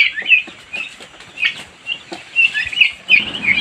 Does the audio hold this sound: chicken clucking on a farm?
yes